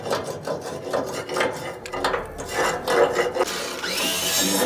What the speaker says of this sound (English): I'm gonna sand all this down